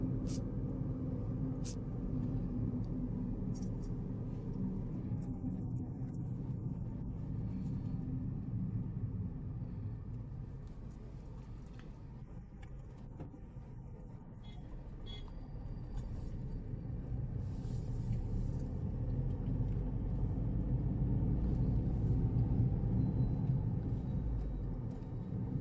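A car climbs a winding hill road on the way to Yelagiri, giving a steady low engine drone and road rumble that swells and eases throughout.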